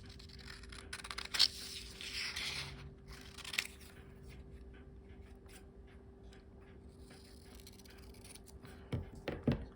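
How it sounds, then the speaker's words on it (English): Sharp scissors cut through a paper telegram form in a few quiet, close snips and slicing strokes against a faint background hum, with no talk. "I'm just gonna get a nice sharp pair of scissors."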